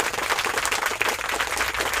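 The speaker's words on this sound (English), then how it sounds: "Everybody give him a big round of applause." A crowd claps and applauds for a fishing vlog's fish-of-the-month winner, a dense, even round of many hands throughout, fairly close and steady with no talk over it.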